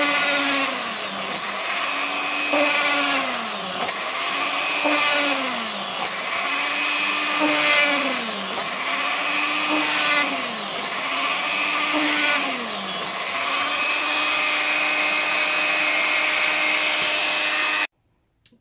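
Saw cutting out stained-glass-effect resin rose sections, a steady loud whine with a rhythmic rising and falling pitch in repeated strokes, continuous and close for most of the span before stopping abruptly.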